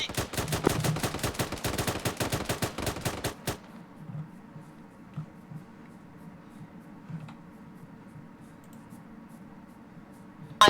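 A rapid string of loud gunshots cracking close by, fired in fast bursts for the first few seconds, then falling silent into a low, quiet background.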